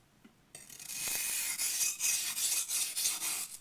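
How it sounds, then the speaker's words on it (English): A yanagi knife is rubbed back and forth on a whetstone, producing a steady, close rasping scrape in repeated strokes after a brief quiet start, with no talking. "technique is important when sharpening a knife like this"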